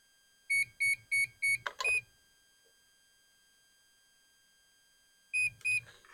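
A Seaking 40 amp electronic speed controller gives a run of four short beeps, then a rising chirp, a pause of a few seconds, and two more beeps while entering timing mode.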